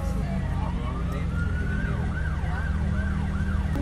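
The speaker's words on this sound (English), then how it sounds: "Get the wind up siren." Wind-up siren at a small-town parade with hot rods, antique cars and tractors, its tone rising and falling in repeated sweeping wails over steady crowd and vehicle noise.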